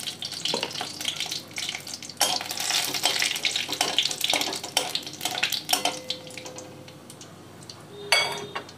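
A dry red chilli and a little black cumin crackle in hot mustard oil in a kadai, with busy irregular spitting and sizzling. Sharp pops and stirring clatter come through close by.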